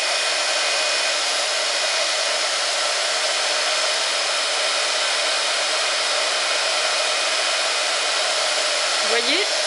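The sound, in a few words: heat gun melting embossing powder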